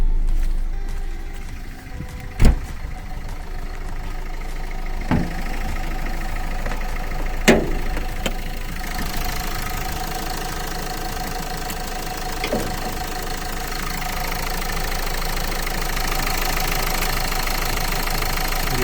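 A 2009 Renault Scenic 2 with the 1.5 dCi K9K diesel engine idling steadily and close by, a constant rough diesel clatter with a few sharp knocks and clunks early on.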